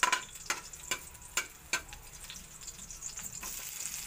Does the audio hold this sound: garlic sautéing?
yes